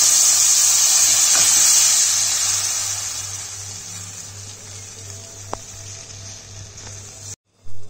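Tempering sizzles in hot oil for a ripe mango gojju, a steady bright hiss that is loud at first and slowly fades, with a faint click near the end before it cuts off.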